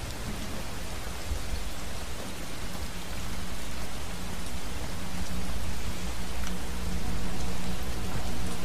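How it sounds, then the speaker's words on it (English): Steady rain falling in a video game, a dense even hiss of drops on surfaces that swells slightly louder over the seconds, with no voices. "Why is it raining?"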